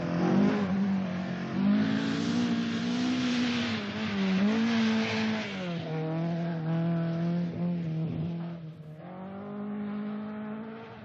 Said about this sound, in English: with one tyre out and running on the rim, he has all sorts of trouble trying to control the powerful mass sport Escort at high speed